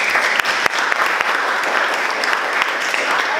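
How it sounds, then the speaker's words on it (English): An audience at a university Toastmasters speech evaluation session claps together, a continuous dense patter of many hands with a few sharper nearby claps standing out, steady and fairly loud throughout. "let's give him a round of applause"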